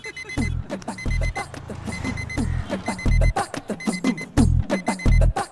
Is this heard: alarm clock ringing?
yes